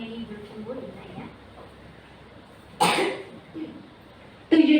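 A woman coughs two sharp, loud bursts a couple of seconds apart, near and harsh, between stretches of quiet speech in a classroom setting.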